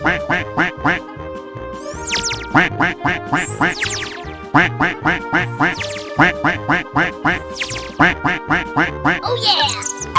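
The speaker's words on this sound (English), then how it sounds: "Duck." Cartoonish duck quacks repeat rapidly and loudly in a 3D animal slide game, a continuous rhythmic run with occasional swooping sound effects between them.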